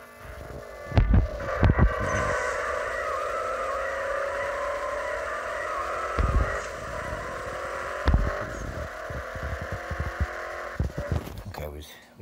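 A car drag race plays out in the CSR2 racing game, with a sustained engine drone rising through gear changes, punctuated by sharp clicks and thumps, over a steady hum.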